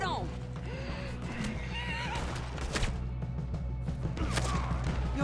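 A horse in Red Dead Redemption 2 whinnies amid game sounds, with hoof clip-clops and bumps mixed under a player talking.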